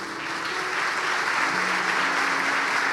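Congregation applauding during a church service, a steady wash of clapping from many hands that holds even and fairly loud throughout, with no voices standing out.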